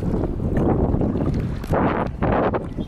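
Heavy wind buffeting the microphone while rafting on a river, in loud, rumbling gusts that rise and fall over a few seconds, with no voices.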